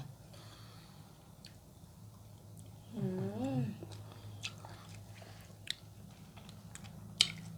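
Close, quiet chewing of crunchy fresh apple snail meat with jaew dipping sauce, soft wet crunches and clicks spaced across a hushed room, with a brief murmured voice partway through.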